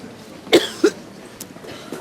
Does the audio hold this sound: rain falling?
no